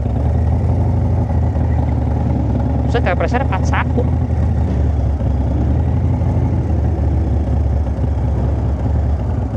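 A bored-up 2000cc touring motorcycle engine runs with a deep, steady low rumble under close talking, with a brief burst of higher-pitched mechanical chatter partway through.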